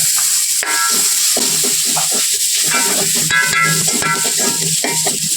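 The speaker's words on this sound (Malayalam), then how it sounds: "ഇനി നമ്മൾ ആ പൊടികളുടെ പച്ചമണമൊക്കെ ഒന്ന് മാറുന്ന വരെ ഒന്ന് വാട്ടിക്കൊടുക്കാം" Spice powders, fennel and chopped tomato sautéing in a pan for a potato and green pea masala, loud close sizzling with repeated scraping stirs and clinks, no voices.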